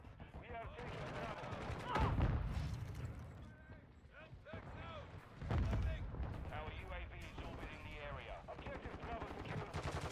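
Gunfire and booming blasts from the video game Modern Warfare 2 ring out in loud bursts, with two heavy peaks, while someone talks excitedly over the shooting.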